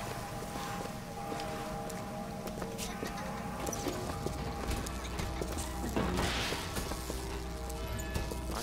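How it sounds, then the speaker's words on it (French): Mechanical horse in Bioshock Infinite, its hooves clip-clopping in a steady, clanking rhythm over a busy city soundscape, with light machinery and water noise in the background. "Un cheval mécanique."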